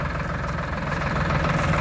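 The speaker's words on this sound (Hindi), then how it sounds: "ये देखिए किसान भाइयों, ये अपन ने ट्रैक्टर स्टार्ट कर लिया है" A Sonalika tractor engine runs just after starting, a steady, close, low rumbling idle with a faint knocking beat and no pauses.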